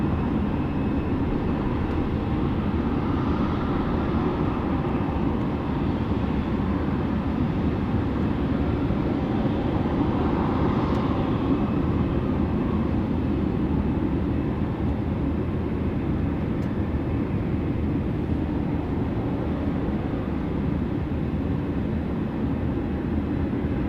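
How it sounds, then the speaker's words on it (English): A USAF KC-135 tanker aircraft taking off from Sydney Airport, a loud continuous broadband jet roar that swells and holds steady throughout, with no speech. "KC-135, Tower, good evening, runway 34 left, clear for takeoff."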